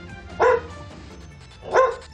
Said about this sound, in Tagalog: Meron siyang dalawang alagang aso